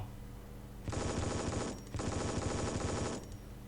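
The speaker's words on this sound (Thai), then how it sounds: "มีเป้าฝึกซ้อมยิงอีกแล้ว ยิงยิงยิง" Rapid bursts of automatic gunfire at target practice in the mobile FPS game REC.O.R.D, two long loud volleys separated by a brief pause, close and dense with no talk.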